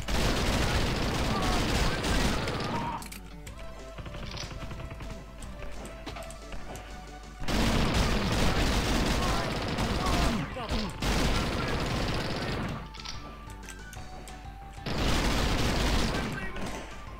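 Uzi fire in the game Reelism comes in loud, dense sustained bursts, three long stretches of rapid shooting separated by quieter gaps, with a voice talking underneath.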